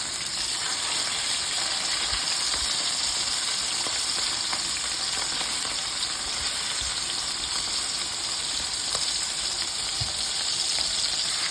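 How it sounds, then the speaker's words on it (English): Pork chops browning in a pan make a continuous dense sizzle, close and steady throughout, with occasional small pops and spits. "So we're going to brown meat."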